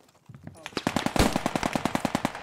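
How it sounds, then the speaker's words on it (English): Gunfire during a military drill at Arnhem, a rapid string of sharp automatic shots in steady rhythm after a brief quiet start, fairly close and loud. "Another shot."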